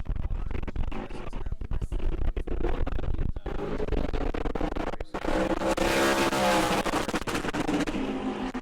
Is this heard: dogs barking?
no